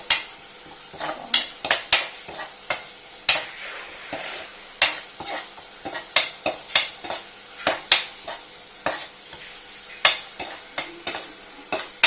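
Ginger curry (inji curry) stirred in a pan for Onam: a spoon scrapes and knocks against the pan in uneven strokes about once a second over a faint, soft sizzle.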